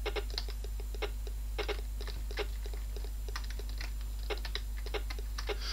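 PC keyboard keys pressed in quick irregular bursts while someone plays a martial arts video game, clicky taps close and clear with no talking.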